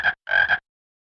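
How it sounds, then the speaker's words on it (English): Frog croaking in the Elmo's Animals children's app, two short loud croaks close together, the second longer, then silence. "Frog."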